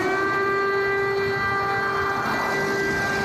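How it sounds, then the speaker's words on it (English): Civil defense air raid sirens wailing across Ukraine during the Russian invasion, a loud steady tonal drone held throughout with no talk. "Air raid sirens heard loud and clear across the country Thursday."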